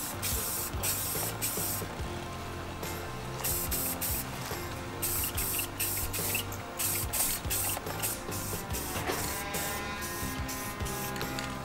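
An off-road mini bike with a Predator 212 engine gets its final coat of spray paint outdoors at dusk. A close aerosol can hisses in repeated short bursts, broken by the rattle of the mixing ball between sprays.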